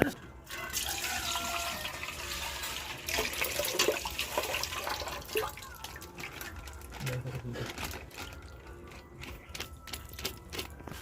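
Milk pours and splashes steadily from packets into a container, with a sputtering, gurgling flow and some handling clatter, under a voice talking.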